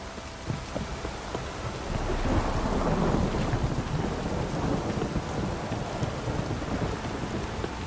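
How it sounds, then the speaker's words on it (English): Heavy rain pours steadily in the video game The Witcher 3: Wild Hunt while deep thunder rumbles and swells in the middle, a dense, continuous storm with no voices. "This downpour's a bastard"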